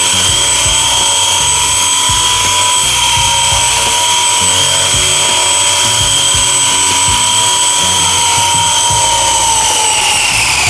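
A remote-controlled helicopter flies indoors, with a loud, steady high-pitched rotor and motor whine that stays constant throughout, with no talking.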